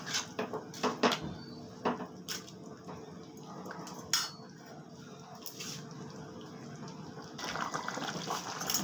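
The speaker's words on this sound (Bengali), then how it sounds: "ঝোলটা আমার ফুটে উঠেছে," Chitol fish curry broth with bay leaves and green chillies simmering in a pot, a soft continuous bubbling wash broken by a few sharp metal clinks of a utensil against the pot.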